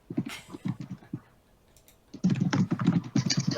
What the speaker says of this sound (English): everybody's typing secret messages